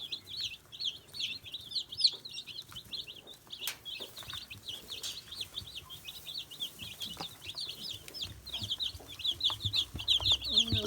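Young meat-breed chicks being raised at home chirp constantly in a dense, busy flock, high peeping calls overlapping throughout with light shuffling and a few soft knocks beneath.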